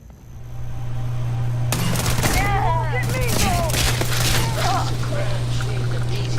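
Rapid bursts of gunfire from the game Starfield crackle over a constant low hum, with voices speaking throughout.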